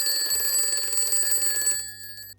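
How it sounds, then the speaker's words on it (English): A loud electronic alarm clock rings steadily in the morning, its piercing high-pitched tone sustained for about two seconds before cutting off, with a low hum underneath. "Ever since I started using this alarm, I wake up every single time it goes off."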